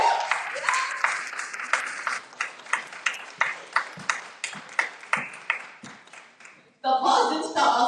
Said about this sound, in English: we'll just give a big round of applause for this wonderful panel